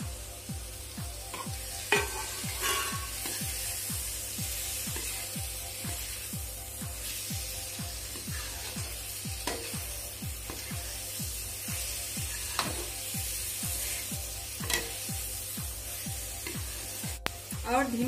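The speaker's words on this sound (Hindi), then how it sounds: "अब मैं इसमें हमने जो आलू और परवल फ्राई किए थे अब मैं इसमें वो डाल देती हूँ।" Fried potatoes and pointed gourd are tipped into hot masala in a pan for an aloo parwal sabzi, giving a steady sizzle with repeated rhythmic stirring scrapes throughout, fairly close and continuous.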